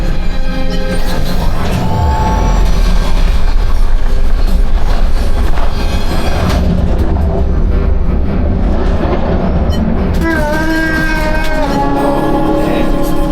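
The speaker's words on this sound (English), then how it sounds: "Oh, there's the train." A loud, continuous low rumble of a train rolling along tracks on the Millennium Falcon: Smugglers Run ride at Galaxy's Edge, dense and steady, with some brighter tonal squeals layered in toward the end.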